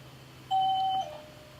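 A single bell ring in a shop, one clear sustained tone lasting about half a second that then fades, close and distinct over a quiet background.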